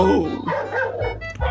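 A dog barks close by, with a few loud yips and woofs mixed with a whimpering tone, while a person talks over it.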